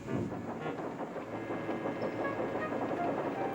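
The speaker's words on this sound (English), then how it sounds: "Thomas was shunting shining new coaches" Toy steam engine shunting coaches on a model railway, a steady low rumble of rolling wheels with soft rhythmic clatter at moderate distance, no voices.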